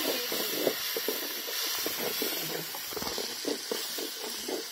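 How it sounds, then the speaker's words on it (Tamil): Onions sautéing in a pan while making fried chicken gravy give a steady, close hiss with faint crackles running throughout, with no talk over it. "இப்ப வதக்கலாம். இப்ப வெங்காயம் போட்டுக்கலாம்"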